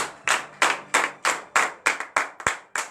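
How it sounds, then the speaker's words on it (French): Sharp, rhythmic hand claps ring out in a morning prayer gathering in Benin, about ten loud evenly spaced strikes with short echoing tails, alone without speech. "Donnez de vive acclamation le Seigneur."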